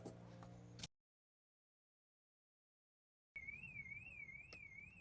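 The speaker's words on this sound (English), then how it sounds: "It's the most polite alarm I've ever heard." A short electronic tone cuts off into silence, then a Mazda RX-8's car alarm starts up with a warbling, wavering siren tone that continues steadily.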